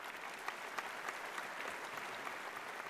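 A studio audience at a Tamil televised debate show for the Ayudha Pooja festival breaks into dense, steady applause that fills the room evenly, with no voices on top.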